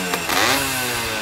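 A Yamaha Tiara S120 motorcycle engine with a compression leak between block and head runs close by with a rough, whooshing roar that swells briefly and then settles into a steady rumble.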